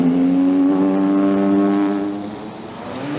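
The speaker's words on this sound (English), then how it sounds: "Away is the Black Falcon Racing Mercedes-Benz SLS, not geared for hill climb starts" A Black Falcon Racing Mercedes-Benz SLS race car pulls away at the start of a hill climb, its engine a loud, steady droning roar that eases slightly toward the end.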